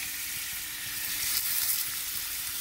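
Trimmed mushrooms frying in butter give a steady, close sizzle with a fine crackling hiss that holds through the whole stretch, swelling slightly near the middle and with no talking over it.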